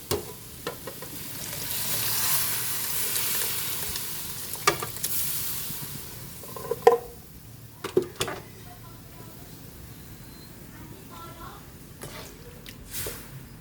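Mung beans sizzle and fry in a pot for ginisang munggo, a soft, steady hiss broken by occasional sharp clinks and scrapes of stirring against the metal.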